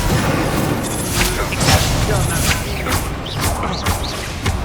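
A Confringo spell fired during a Hogwarts Legacy combat quest bursts into loud, repeated booming explosions with crackling impacts, layered over the steady din of a fight.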